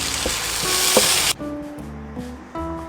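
Tomatoes and onions sautéing in a pan give a loud, dense sizzle that suddenly drops to a softer, bubbling fry with occasional utensil clinks.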